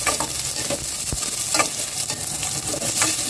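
Onions fry in a pan with a loud, steady sizzle while a utensil stirs them with repeated close scraping strokes, no talking.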